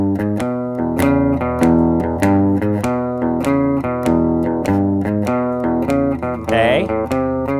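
Slow electric guitar plays the verse of a song: steady picked chords and bass notes in an even rhythm, close and clear, with a brief bend near the end and no voice over it.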